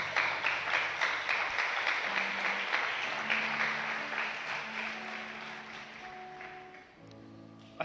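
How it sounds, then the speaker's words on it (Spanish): Congregation applause in a church, a warm burst of clapping that rises strongly then gradually fades, with faint organ or keyboard tones sustained underneath. "denle un aplauso al Señor"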